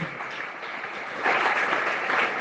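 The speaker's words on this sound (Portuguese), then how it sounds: "dê um aplauso bem forte ao Senhor." A church congregation at an evening service applauding together, a broad, sustained wash of many hands clapping that swells louder in the second half, with no speech over it.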